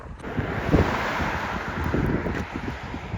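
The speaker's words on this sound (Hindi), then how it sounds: "एंड हवा बहुत तेज़ चल रही है इधर।" Strong wind blows hard across the microphone near the US border, a loud continuous roaring rumble with gusting swells and no voices.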